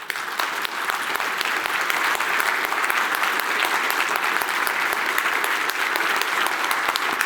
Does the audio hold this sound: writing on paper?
no